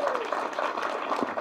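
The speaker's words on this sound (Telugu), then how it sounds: "మీరందరూ కరతాల ధోరణతో క్లాప్స్ కొడుతూనే" Audience applause fills a hall at a Film Critics Association felicitation for a film team: a dense, steady wash of clapping across the whole short stretch, with faint voices mixed in.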